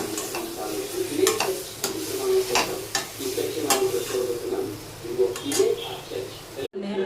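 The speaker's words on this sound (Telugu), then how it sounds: "ఇవన్నీ తిప్పుకోవాలండి." Potato and raw banana pieces sizzle in a pan while a spoon scrapes and taps against it in irregular strokes, with someone talking over the frying.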